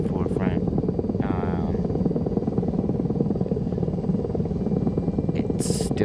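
Steady low rotor thump and engine drone of a helicopter in the DCS World flight simulator, played in VR, running continuously with someone talking over it and a couple of brief clicks.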